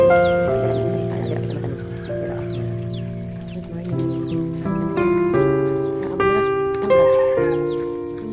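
Chickens give drawn-out, tonal calls in overlapping bursts, loud and close, on a family homestead.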